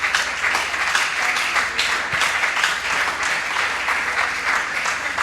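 Church congregation applauding loudly and steadily throughout, a dense sustained wash of clapping with no talk over it.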